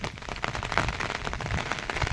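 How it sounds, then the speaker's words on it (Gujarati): Rain falling after a downpour, a dense continuous patter on surfaces, close and fairly steady, with no voices over it. "અવાજ આવે છે વરસાદનો"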